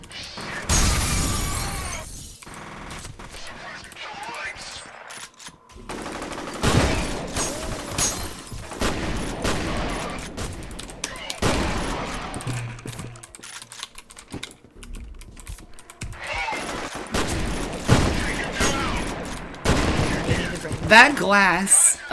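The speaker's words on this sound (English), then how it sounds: "That glass is the only glass in the game that doesn't break in one melee hit, so you have to shotgun it open." Shotgun blasts shattering reinforced glass in the video game F.E.A.R., heard as several loud, sharp bursts with breaking glass, separated by quieter gaps and mixed with clattering game sounds.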